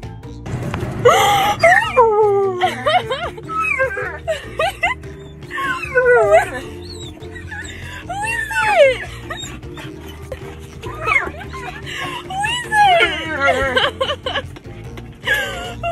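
A dog close by whimpers and yips in high, wavering cries, clustering and repeating for the whole stretch, excited and insistent, with occasional short gaps.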